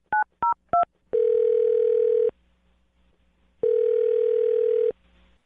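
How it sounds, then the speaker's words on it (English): A telephone number is dialed: three quick keypad beeps, then two long, steady, loud tones separated by a pause of silence. The sound is clean and close, with no voices. "I'm going to dial her phone number right now"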